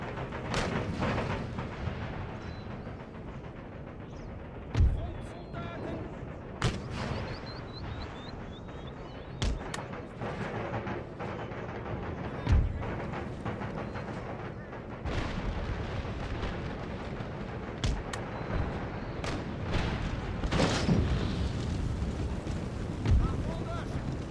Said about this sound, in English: Let my cannons have their fun.